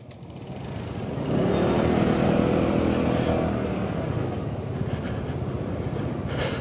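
A Peugeot SpeedFight 125 scooter rides off on a road in Bali. The engine drone swells after a second into a steady, close, broadband rumble that holds for several seconds, with no talk.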